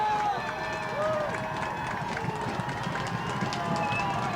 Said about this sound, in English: we finally see this crowd get up making some noise here